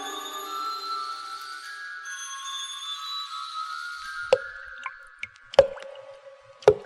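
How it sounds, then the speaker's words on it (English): Dripping blood at the opening of the horror film Black Sunday: a few sharp, isolated drip impacts at irregular intervals, growing louder, following a sustained eerie tonal drone that fades out. "The sound you hear is dripping blood."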